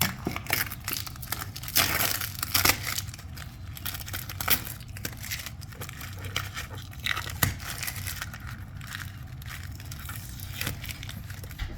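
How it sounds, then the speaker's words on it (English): Tape is peeled off a plastic floor register in close, continuous crinkling and tearing, with sharper rips now and then and no talk. "I'm going to remove these tapes."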